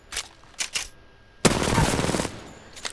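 Hip-fired gunfire in Apex Legends: a couple of short isolated shots, then a sustained rapid automatic burst lasting about a second, followed by a faint later shot.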